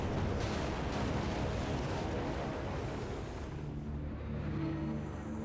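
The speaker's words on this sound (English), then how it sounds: "The explosion pries 70 cubic meters of rock from the tunnel's depths." An explosive blast breaking rock deep in a mine tunnel, heard as a loud sustained roaring rumble that slowly fades.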